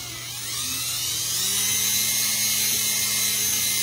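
Drill-driven cylinder hone working inside the bore of a Honda GX160 engine, a steady high-pitched whine that rises and holds, close and loud with no voices.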